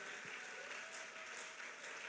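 Church congregation at a Sunday service applauding, a steady, fairly faint wash of clapping from many hands that lasts throughout.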